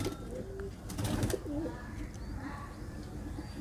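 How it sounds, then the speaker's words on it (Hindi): Indian high flyer pigeons coo softly in a loft as they are let out, low murmuring calls over a quiet background with some faint rustling. "अब चलिए हम कबूतरों को बाहर निकाल देते हैं"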